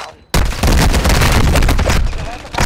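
Dense, loud bursts of gunfire from a multiplayer shooter game in Resurgence mode, continuous volleys over about two seconds, with players talking over the shooting.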